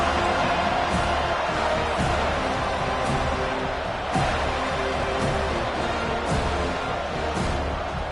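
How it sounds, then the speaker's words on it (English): A packed college football stadium crowd at a Mizzou game roars steadily, a dense continuous wall of cheering and noise with faint thumps throughout and no clear talk. "This crowd, full throat, spreading the eardrums"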